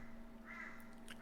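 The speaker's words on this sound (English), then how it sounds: "There's a crow here." A crow caws outside behind a closed window, a few faint, distant calls rising in short bursts over a steady indoor hum with no talking.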